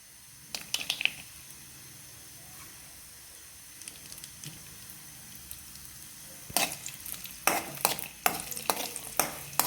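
Cashews, raisins and dates frying gently over low heat in a pan for wheat payasa, a faint soft sizzle with scattered spoon scrapes, stirring growing louder and busier toward the end.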